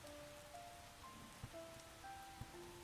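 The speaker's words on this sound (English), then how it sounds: "The rain is coming from the side, and the building is blocking the rain." Rain in the video game Starbound, a steady soft patter of falling drops that continues evenly throughout, with faint game tones in the background and no talking.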